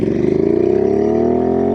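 A Royal Enfield INT650 custom motorcycle engine revs up close and loud, its pitch climbing steadily in one continuous throaty pull.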